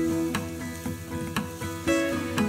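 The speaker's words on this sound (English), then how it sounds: "in with the onion, the garlic and the ginger, and we're just going to cook them for a couple of minutes until the onion is lovely and translucent" Onion, garlic and ginger fry in a pan, giving a soft sizzle with a few brief stirring scrapes beneath a steady tonal background hum, close and moderate in level.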